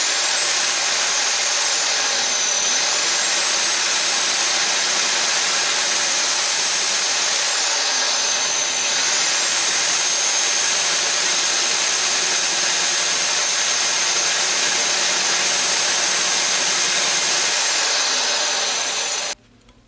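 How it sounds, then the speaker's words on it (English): A power drill bores at an angle into a coin held in a vise while making a ring, giving a loud continuous high-pitched whine that holds steady throughout and cuts off abruptly at the end. "I'm going to use this drill and drill into it on an angle like this while holding it in the vise."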